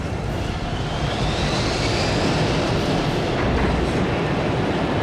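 An airliner roars on touchdown as reverse thrust is applied, giving a loud, steady, broadband engine rush that holds for several seconds with no voices.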